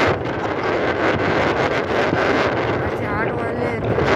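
Strong, steady wind buffets the microphone while cycling on a cold road in Jammu and Kashmir, a loud continuous roar that fills the whole clip and masks other sounds.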